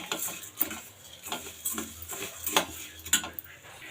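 Coriander seeds roast in a pan and are stirred with a metal utensil, giving scattered clinks and scrapes in an irregular rhythm over a faint background, close and fairly quiet with no speech.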